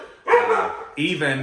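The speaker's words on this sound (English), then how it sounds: "Sorry about the dogs again." Dogs barking indoors in a house full of hydroponic vegetables, a few close, loud barks overlapping with a person talking.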